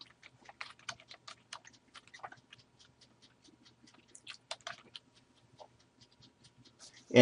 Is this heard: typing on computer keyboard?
yes